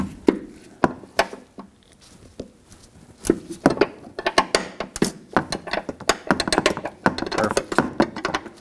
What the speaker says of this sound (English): this one will definitely be a wrench job, 12 millimeter in size as well